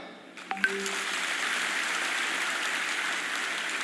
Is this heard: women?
yes